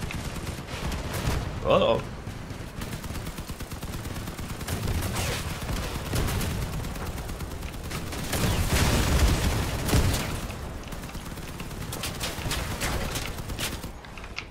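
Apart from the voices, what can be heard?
gunfire shooting at car wheels in video game Crossout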